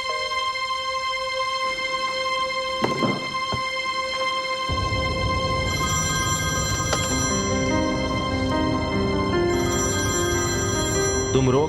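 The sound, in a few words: telephone ringing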